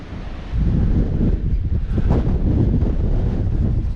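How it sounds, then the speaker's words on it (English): Steady wind buffets the microphone outdoors on a farm during Case IH planter repairs, a continuous low rumbling roar with gusty swells and no voices. "There, it's windy out."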